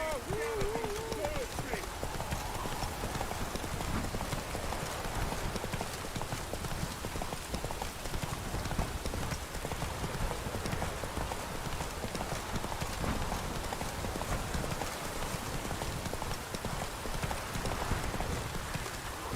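Hooves of the horse Roach galloping in The Witcher 3, a rapid steady clip-clop running throughout with rain-like hiss behind, while a voice talks over it.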